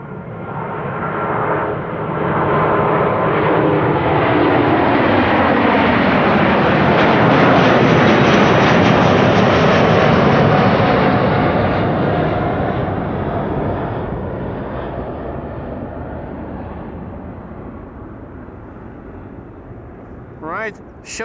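A Delta Airlines jet airliner departs, its roar swelling to a loud broad peak mid-way then gradually fading as it recedes, with a brief thump near the end.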